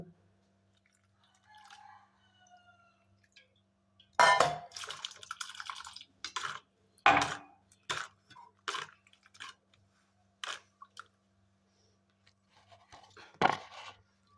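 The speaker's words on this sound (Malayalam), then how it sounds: "കുറച്ചും കൂടി വെള്ളം ഒഴിക്കുകയാണ്" Water is poured into watermelon juice, heard as quiet, close, intermittent splashing bursts and drips separated by near silence.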